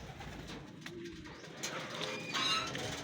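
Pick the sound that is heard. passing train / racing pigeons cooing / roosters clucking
racing pigeons cooing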